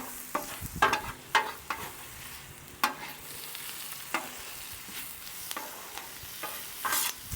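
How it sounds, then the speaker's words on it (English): Beef and onions frying in rendered beef fat on a griddle for cheesesteak sliders, a soft sizzle broken by several sharp scraping and clattering hits from a spatula, no talking. "Now I'm just cooking in all that beef fat."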